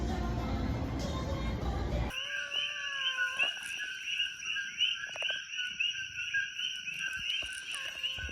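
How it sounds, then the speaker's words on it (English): A friendly cat outdoors in Hawaii gives a few sustained, wavering meows close by, with rising and falling pitch over faint background noise and no talking. "This is the friendliest cat ever."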